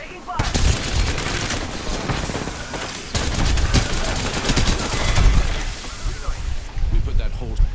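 Rapid automatic gunfire in Apex Legends, dense bursts of fire and impacts layered almost without pause, with a player talking over the shooting.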